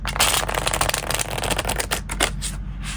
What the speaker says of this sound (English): the first thing I want to show you is the shuffle